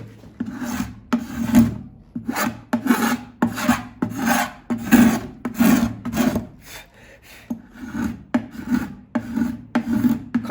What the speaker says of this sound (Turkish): Kabasını böyle pastrangolla aldıktan sonra ince de bir sistire geçeceğiz